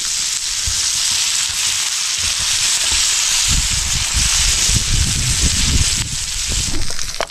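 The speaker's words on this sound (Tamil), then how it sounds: "மசாலா போட்டு வறுத்துட்டான்" Crab fries in masala over a camp cooking fire at night, giving a loud, steady close sizzle with occasional stirring and crackling, and no talking.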